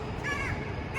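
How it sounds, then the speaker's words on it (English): Birds call at dawn along a quiet Dubai Marina walkway, with a few clear, close chirps and calls over a steady hum of city ambience and no talking. "You can hear the birds chirping,"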